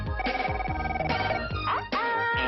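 The toy phone of the electronic game Le téléphone secret rings with a rapid, continuous electronic bell trill, loud and close, briefly interrupted near the end before resuming.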